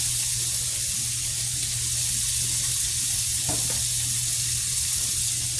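Eggs fry in two tablespoons of butter in a pan, giving off a steady, even sizzle that holds at a moderate level with no talking over it.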